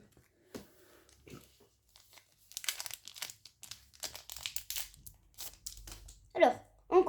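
A Pokémon card booster pack is torn open with crinkling, tearing foil bursts at close range, interspersed with quiet pauses, while people talk softly.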